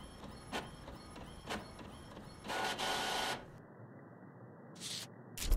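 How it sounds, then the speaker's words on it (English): A printer in the horror game The Mortuary Assistant runs with quiet rhythmic mechanical ticks, then a longer whirring feed pass, followed by silence and a couple of short bursts. "Let's see if there's anything new with the printer."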